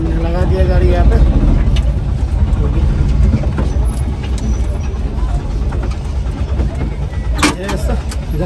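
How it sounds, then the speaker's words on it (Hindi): Delivery vehicle carrying a sofa being parked on a street in Shillong, heard as a loud, close engine rumble that stays steady throughout, with someone talking over it. "लगा देता हूँ मैं गाड़ी, मैंने लगा दिया गाड़ी यहाँ पे"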